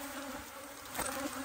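Bees swarm and buzz around an open beehive, a steady, close insect drone that swells briefly partway through.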